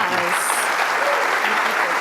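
Audience applause at an awards event, dense continuous clapping from a crowd, loud and close, with a voice speaking over it briefly.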